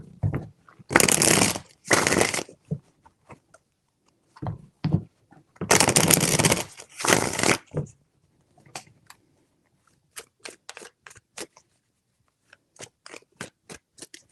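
Tarot cards shuffled in three quick riffling bursts, close and crisp, separated by brief pauses with light taps and handling sounds, no talking.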